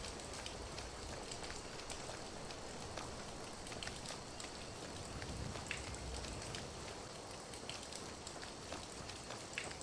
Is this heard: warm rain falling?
yes